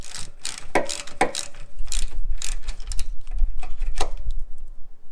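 A ratchet undoes the second bolt on the air suspension reservoir tank of a Land Rover Discovery, rapid close clicking bursts of the pawl with brief pauses between strokes.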